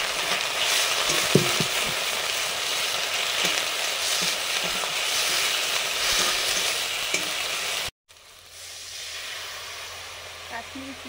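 Ghee, Kashmiri chili powder and turmeric sizzle and spatter in hot cooking oil while a Bengali fish curry is made. A loud, steady frying hiss runs throughout, then breaks off abruptly and resumes as a quieter sizzle.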